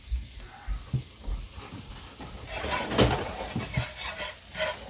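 Pork chops sizzle and crackle in a pan, a soft steady frying hiss with occasional scraping bursts from a metal spatula, close and fairly quiet with no talk.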